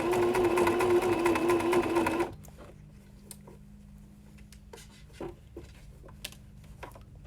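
A sewing machine stitches fabric in a loud, steady whir for the first two seconds, then stops, leaving a quiet room with faint scattered clicks and small handling noises.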